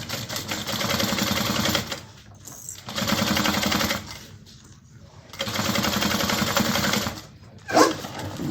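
Close sewing machine bastes a bag lining seam at a 1/8 inch allowance in three rapid, evenly spaced bursts of stitching, separated by short pauses with faint handling noise.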